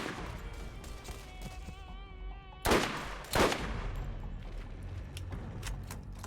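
Gunfire in the shooter game Borderlands: two sharp, loud shots stand out over a steady background of game noise, with a few fainter pops around them.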